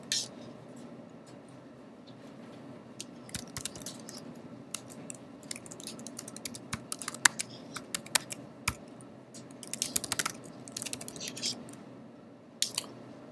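Fingers tap out a password on a computer keyboard in a lecture room, with irregular clusters of crisp keystrokes over a low steady hum.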